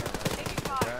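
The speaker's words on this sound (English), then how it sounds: "Enemy fire! Shots fire." Rapid bursts of enemy gunfire in the shooter game TFO, sharp repeated shots crackling close and dense over about a second.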